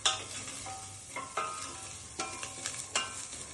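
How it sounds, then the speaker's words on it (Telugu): Cumin and mustard seeds dry-roast without oil in an AMC 24 cm roaster, a quiet, soft crackle broken by several sharp stirring scrapes and taps at close range. "జీలకర్ర, ఆవాలు, ఆయిల్ లేదు అయినా ఇవి మంచిగా సాఫ్ట్గా ఫ్రై అవుతున్నాయి."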